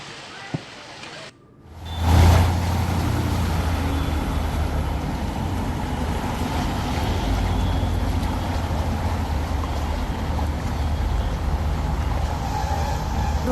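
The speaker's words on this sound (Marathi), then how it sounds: "या पाण्यात जेव्हा बाईक स्वार जात आहेत तेव्हा त्यांच्या गाड्या बंद पडत आहेत" Motorbikes pushing through knee-deep flood water around King Circle, a steady loud engine and water rumble that rises sharply after a brief quiet start and then holds on without a break.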